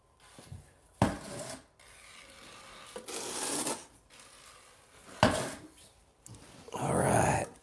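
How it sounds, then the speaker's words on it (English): Excess thinset mortar is scraped off a bathroom floor being tiled, giving several rough rasping scrapes in separate bursts, moderately close, with quiet gaps between them and no talking. "So I'm scraping this extra thin set out of my way"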